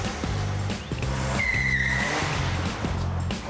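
Rear tyres of a BMW Z3 squeal during a burnout, a sustained loud tyre screech over a revving engine with repeated throttle pulses, close and continuous with no talk.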